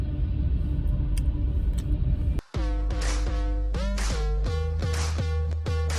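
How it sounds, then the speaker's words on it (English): Train passing outside, a steady low rumble heard from inside a parked car, continuous and loud throughout with a brief dropout midway, with faint high metallic squeals and tonal screeches on top. "There's a train outside. It was like rumbling in my car."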